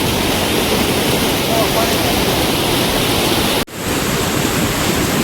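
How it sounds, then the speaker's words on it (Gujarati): Water overflowing the Chavand village lake pours in a heavy, continuous roar close by, with a brief dropout near the end before the loud rushing wash resumes. "પાણીનો પ્રવાહ બહુ રાજો છે"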